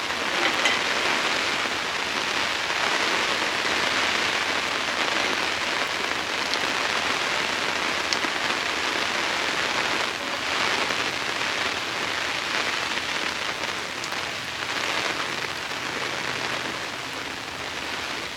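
Heavy rain falling on a rooftop tent during a windy, stormy campout, a dense, steady hiss of drops drumming close on the fabric throughout, with no voices.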